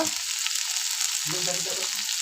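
Onion and moong dal fry in oil as tomato is added, a close, steady hiss of sizzling with a brief spoon scrape near the start and a stir toward the end, no voices.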